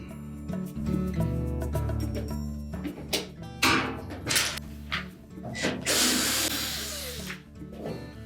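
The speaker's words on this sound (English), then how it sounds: "So we'll just remove those Phillips screws from the top" A power screwdriver backs Phillips screws out of the top of a Whirlpool washer's back panel, whirring in short bursts with ratcheting clicks and metallic rattles, close and fairly loud.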